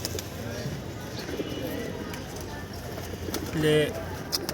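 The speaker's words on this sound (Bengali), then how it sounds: "এই যে কবুতরগুলো আজকে একটু হাঁপাইতেছে" Pigeons in a loft, heard faintly as soft coos and bird sounds under a person talking, with a brief louder call near the end.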